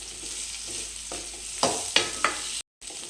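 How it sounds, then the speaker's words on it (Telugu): Small cut potato pieces go into oil with onion and green chilli. A gentle sizzle runs underneath a few sharp stirring scrapes before a brief dropout, and no voices are heard. "మనం వేసుకున్న ఆలుగడ్డ ముక్కలు కూడా ఆయిల్లో మంచిగా ఫ్రై కావాలి"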